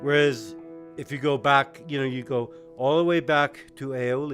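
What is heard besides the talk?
None of the usual background noises is heard.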